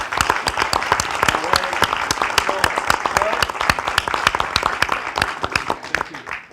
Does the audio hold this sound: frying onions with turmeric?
no